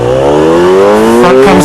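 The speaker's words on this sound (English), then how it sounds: "Take off first gear, open the throttle, front comes up" A motorcycle pulls off hard in first gear for a wheelie, its engine note climbing steadily in pitch and very loud and close throughout, with no voices over it.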